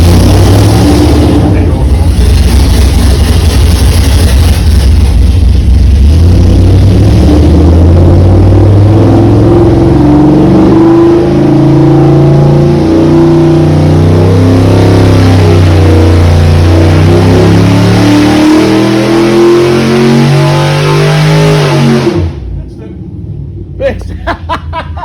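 A 5.7 Hemi V8 screams at high RPM on a dyno, loud and sustained with rising and shifting engine tones for over twenty seconds before abruptly cutting off, with voices talking over it.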